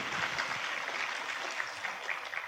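A crowd claps continuously, a dense patter of many hands filling the room at moderate volume without letting up.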